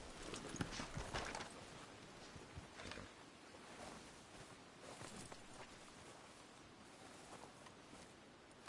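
Faint, steady clip-clop of horse hooves walking at an easy pace in Red Dead Redemption 2, low and muffled under a wash of background noise.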